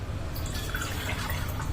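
Water is poured into a bowl of sago, a short, soft splashing and trickling heard close up with no talk.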